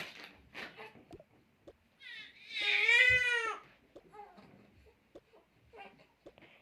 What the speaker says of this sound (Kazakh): Көршінің баласы жылап жатыр ма?